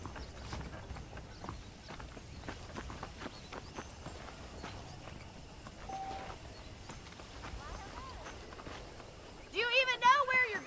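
Horses' hooves clip-clop at a steady walking pace in the Western video game Red Dead Redemption, close and continuous under game voices, with a brighter tonal burst near the end.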